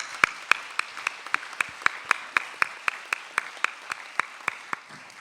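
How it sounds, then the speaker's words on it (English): Applause for Pine Hills Elementary School, a sharp, evenly spaced series of single claps, close and crisp, like one person clapping along a recorded round, with no talk. "Let's give them a round of applause"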